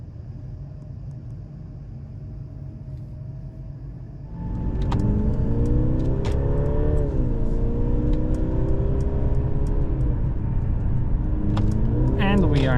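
Mercedes C-Class on a de-restricted stretch of the German Autobahn, engine rising from a low steady cabin hum into a loud climbing rev, dipping briefly at a gear change before climbing again.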